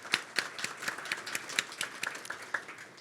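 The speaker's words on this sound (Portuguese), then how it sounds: "eles merecem uma salva de palmas de todos nós" A conference audience claps steadily for about three seconds, a quiet spatter of many hands with no voices over it.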